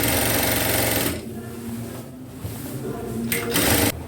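A sewing machine stitches two parallel gathering seams on a dress in a fast, close, rattling burst lasting about a second, then stops as a voice speaks, with a brief second run near the end.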